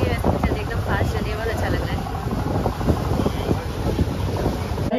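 A fast boat ride in Dubai, with steady engine and water rumble blending into heavy wind buffeting on the microphone across the whole stretch, with a voice partly audible under the roar.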